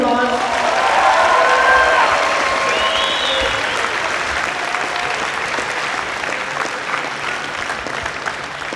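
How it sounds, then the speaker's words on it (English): A crowd at a Kindness Week presentation applauds a police officer with loud, sustained clapping, a few cheers and voices mixed in near the start, the applause slowly tapering over several seconds. "Can we give him a nice round of applause?"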